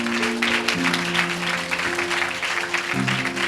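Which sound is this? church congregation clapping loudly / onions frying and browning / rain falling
church congregation clapping loudly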